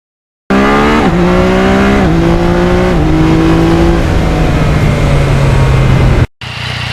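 A motorcycle engine drones steadily at close range while riding back roads, its pitch stepping up and settling through several gear changes before cutting off abruptly near the end.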